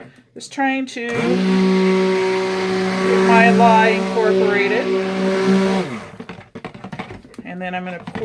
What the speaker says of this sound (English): So here we go with the blender.